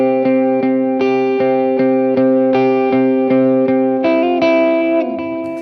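Repeating picked electric guitar line on a homemade Telecaster, bright clean notes with effects, struck in a steady rhythm of short attacks over ringing sustain, shifting to a higher chord pattern near the end.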